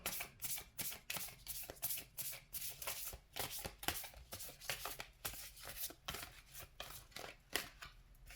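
Tarot cards shuffled by hand in quick repeated riffles, crisp papery flutters coming in rapid bursts about twice a second, close and fairly quiet, with no talking.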